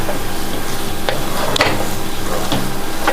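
Sajjige, a semolina breakfast dish, being stirred and fried in a pan with ghee, a steady soft sizzle with a few sharp scrapes of the spoon against the pan, close and alone.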